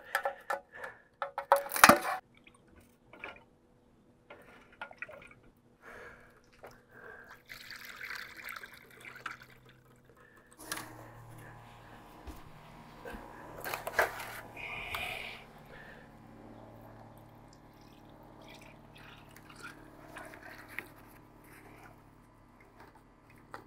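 Leftover liquid concrete stain or coating is strained on a job site, trickling and dribbling in soft, intermittent pours with light knocks and handling noises, close and fairly quiet, with no speech.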